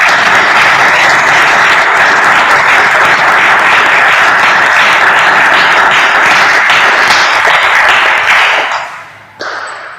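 Loud, dense applause fills a Supreme Court hall at a swearing-in ceremony for new lawyers, sustained steadily for about eight seconds before quickly dying away.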